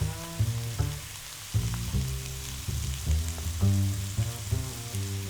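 Garlic shrimp with oyster sauce sizzles steadily in a frying pan, a soft continuous hiss beneath louder melodic background music.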